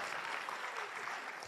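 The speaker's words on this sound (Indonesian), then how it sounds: "Tepuk tangan buat Padang." A seminar audience applauds in a hall. The brief burst of crowd clapping is fairly faint and even, with no speech.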